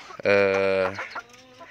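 A single loud, drawn-out squawk from a Kuntara chicken, close by, followed by a few softer clucks.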